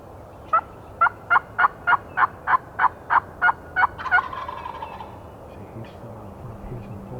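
Wild turkey gobbling during a hunt: a rapid, evenly spaced run of about ten loud, close gobble notes, ending in a rattling burst and trailing off into quiet outdoor background.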